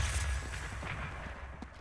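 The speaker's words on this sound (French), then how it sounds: "Explosion!" An explosion bursts in The Legend of Zelda: Breath of the Wild, a deep boom at the start trailing into rumbling debris and crackle, with no talk over it.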